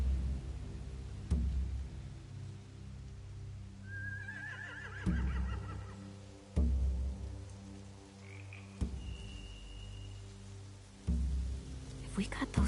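Horses whinny and snort amid a steady low rumble, with thumps and knocks recurring every couple of seconds; a distant high call rises midway.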